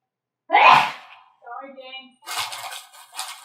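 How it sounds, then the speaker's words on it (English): A woman sneezes once, sharp and close by in a kitchen, then a short voiced sound and brief talk follow. "my wife just sneezed because we're up here in allergy season up here in Canada."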